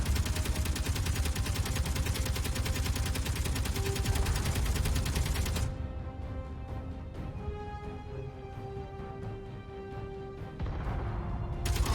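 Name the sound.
gunfire in video game Space Engineers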